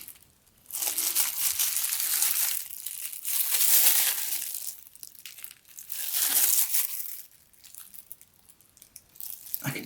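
Tape is pulled and pressed over wet epoxy in a guitar fretboard inlay. Crinkling, tearing strips of it come in several slow waves, close and fairly quiet, with short pauses between them.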